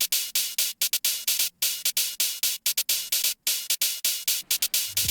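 A long cymbal sample in FL Studio, its envelope switched on and note lengths varied, plays as a rapid run of bright hits that are cut off at uneven lengths. Some hits are clipped short and others ring longer, in a choppy, irregular rhythm.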